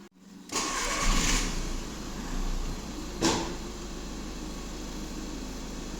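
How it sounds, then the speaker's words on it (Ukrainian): A Golf 1.6 TDI diesel engine cranks and catches on a cold start, then settles into a steady warm-up idle with a brief sharp clatter partway through. "Так, автомобіль завівся"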